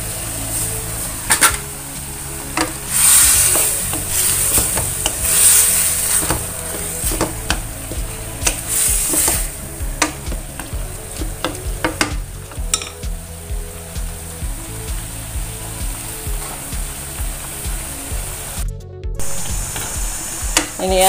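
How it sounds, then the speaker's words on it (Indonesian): Chicken sizzles steadily as it is stir-fried in a hot pan while a utensil scrapes and clatters against the metal, with someone talking over the cooking. "ayamnya itu kita tumis seperti ini"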